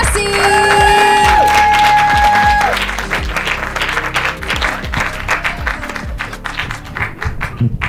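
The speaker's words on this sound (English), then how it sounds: "put your hands together, start clapping them, start banging them together, and make as much noise as you can" A comedy show audience in a Portland studio claps and cheers loudly, the applause swelling at first then settling into steady dense clapping that keeps going, with a voice over the crowd.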